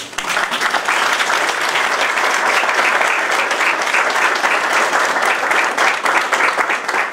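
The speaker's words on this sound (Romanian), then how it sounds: "Vă rog să-l aplaudați." Audience applause for a guest at a spiritual program event about Pope John Paul II, dense and steady, loud and sustained throughout with no talking over it.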